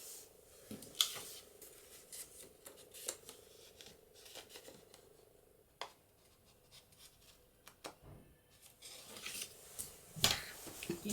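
Scissors snip through paper while trimming a junk journal page on a craft table, giving a series of short, close, crisp cuts with quiet pauses between them and no talking.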